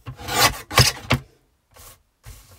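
Card stock being trimmed to size for a layered stencil project, giving three quick, close rasping cuts followed by two softer, shorter scrapes with brief pauses between them.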